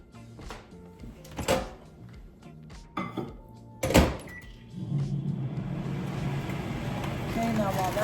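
A microwave oven runs to melt butter for a sugar-free chocolate cake. A few clunks and knocks of handling and the door come first, then a steady low electric hum settles in and continues to the end.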